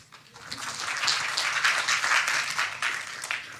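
Audience applause for Mike at an honours symposium, a steady dense wash of clapping that swells after a quiet start and holds throughout without voices.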